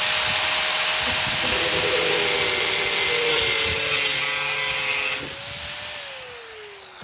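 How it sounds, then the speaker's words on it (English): An angle grinder fitted with a cutting blade slices through a window screen frame, a loud, steady high-pitched whine with a droning tone that holds for about five seconds, then drops and winds down as the cut finishes. "I'm actually gonna use an angle grinder with a blade on it to make it nice and clean"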